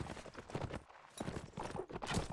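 Horse hooves clopping in an online multiplayer shooter match, a quick irregular run of hoofbeats lasting a couple of seconds, fairly faint and close together.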